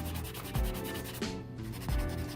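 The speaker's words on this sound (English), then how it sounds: "I'm going to have to sand this stuff off because I think there's glue in the way" Sandpaper rubs back and forth against a small custom figure, scraping off dried glue in quick, rhythmic close-up strokes with a few firmer passes.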